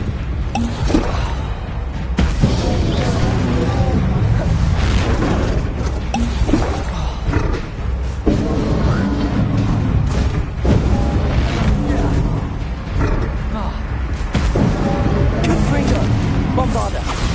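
Bombarda and Confringo spell explosions in Hogwarts Legacy go off repeatedly as heavy booms and crashes, loud and continuous under a player shouting spell names throughout.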